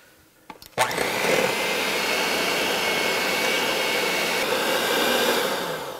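An electric mixer starts with a couple of clicks and then runs with a loud, steady whir, beating plum pudding batter with rum for several seconds, close by and without talk.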